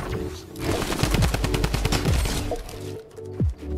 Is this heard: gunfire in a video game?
yes